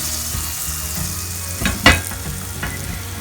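A banana oatmeal pancake cooks in a buttered pan with a soft, continuous sizzle, broken by a couple of brief utensil clinks near the middle. No one speaks.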